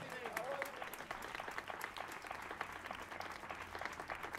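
Audience applause at an outdoor summer concert in Barberà del Vallès, a lively clatter of many hands clapping at moderate distance, steady and fairly faint, with some crowd voices mixed in.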